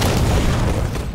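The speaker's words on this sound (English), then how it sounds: "Watch the rocket launcher." A rocket launcher explosion in the Halo video game sounds as one loud, dense, sustained boom that fills the whole short moment, close and overpowering.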